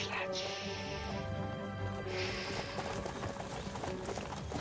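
Horse hooves clip-clop in Kingdom Come: Deliverance II, a steady trotting rhythm mixed with game music and ambient noise, with someone talking over it.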